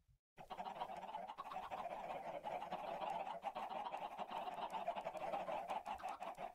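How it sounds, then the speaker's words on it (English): Poultry calls from the video game Minecraft, a steady busy stretch of clucking and squawking that runs continuously at moderate volume after a brief silent start, with no talk over it. "You have to wait until the chicken grows."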